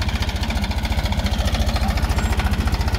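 A tractor engine runs steadily at close range on a farm field, its low rhythmic chugging pulse continuous and loud throughout with no voices.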